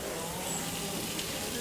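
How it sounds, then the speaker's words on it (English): Burgers sizzle on a Weber MasterTouch BBQ griddle alongside bacon rashers for a breakfast cook, giving a steady, dense frying hiss at close range with no pauses. "Hear those burgers sizzling away."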